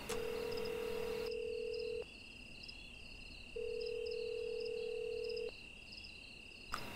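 In a video game, after a number is dialed, a telephone plays two long steady tones separated by a pause, over a faint high electronic whine. The sound is clear and close.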